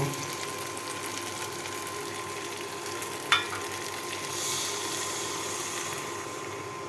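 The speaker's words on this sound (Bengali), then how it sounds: "মশলা থেকে তেল ছেড়ে দিয়েছি এখন জল দিয়ে দিব" Steady, soft sizzling of frying spice paste for a Bengali fish curry as water is poured in, with one brief sharp clink midway and a hiss that swells briefly afterward.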